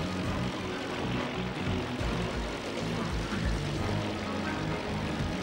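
A Spitfire plane from Spyro Enter the Dragonfly drones continuously with a loud, dense propeller-engine roar. The sound stays steady and close for the whole stretch.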